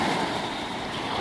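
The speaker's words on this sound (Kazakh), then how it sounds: "Жағаға қатып тұрып жатыр толқындар." Sea waves surging onto the shore at Antalya on a rough morning, a loud continuous wash of surf with wind noise against the microphone.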